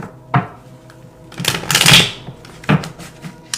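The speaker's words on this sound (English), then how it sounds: "I'm going to pull some tarot cards now" Tarot cards being shuffled by hand, a few close riffling and flicking bursts, one longer rustle in the middle, no talk.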